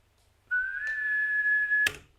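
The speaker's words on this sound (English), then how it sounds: "Whistling into a microphone is fucking hard" A person whistles one long, steady note into a microphone during a lo-fi beatmaking session. The note is close and clear, rises slightly at the start, holds evenly, and ends with a sharp click.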